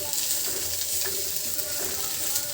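Onions fry for a Bengali fish bhorta while being stirred, giving a dense, loud, continuous sizzle with faint scraping strokes close up and no voices.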